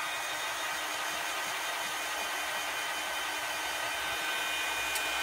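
Constant high-pitched blowing whir from a heat gun warming up for craft embossing, loud and unbroken with only a faint click near the end.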